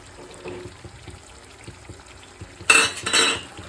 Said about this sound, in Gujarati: વરિયાળી નાખી દઈશું